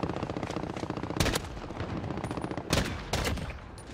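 Rapid automatic gunfire rattles in a Modern Warfare Gun Game match, loud and continuous, broken by a few sharper, heavier shots.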